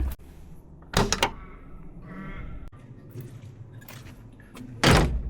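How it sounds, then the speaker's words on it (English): The cabin door of a UHI 6 ton excavator is unlatched and swung open, with a sharp clack of the lock, some rattling and metallic creaks, and another solid thump near the end, close and fairly loud. "Door locks open there, nice and solid."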